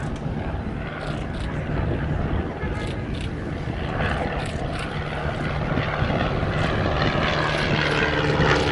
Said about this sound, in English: Ian Castle here at Sywell, he allows me to fly his Tiger Moss from time to time